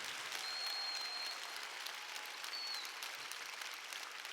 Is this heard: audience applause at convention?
yes